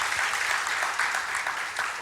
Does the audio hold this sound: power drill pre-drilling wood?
no